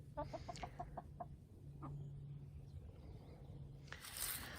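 Chickens roaming a fenced homestead area clucking in a quick run of short clucks, then scattered calls over a low steady hum, soft and a little distant.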